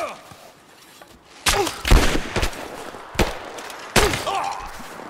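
Gunfire in the video game Rise of the Tomb Raider: several loud, sharp shot bursts in irregular clusters during a firefight, with shouted voices calling out in between.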